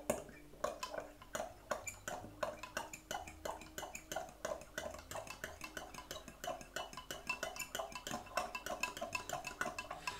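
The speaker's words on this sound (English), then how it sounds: "I'm going to give it a good stir now" A spoon stirs and breaks up sweet potato curry in a metal pot, producing a steady rhythm of clinks and scrapes that repeat roughly every half second, close and fairly quiet, with no talking.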